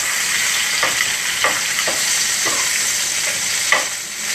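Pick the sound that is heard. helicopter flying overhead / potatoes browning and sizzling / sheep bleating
potatoes browning and sizzling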